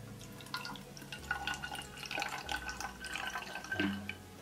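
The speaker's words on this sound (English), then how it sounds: "I pour a little bit of the aloe vera juice into it" Aloe vera juice poured a little at a time into a container of rose water for a hair mix, with soft intermittent drips and small splashes, close and quiet against low room noise.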